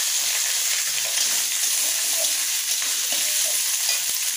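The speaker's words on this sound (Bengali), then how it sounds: "এবার আমি আলু আর ফুলকপিটা ছেড়ে দিলাম" Loud, dense sizzling of potatoes and cauliflower frying in oil, a continuous hiss with faint stirring scrapes underneath.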